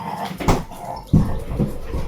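A dog whimpers in short, soft whines, with a couple of louder yelping bursts close by and no talk over it.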